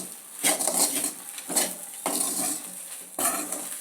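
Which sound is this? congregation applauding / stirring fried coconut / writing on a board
stirring fried coconut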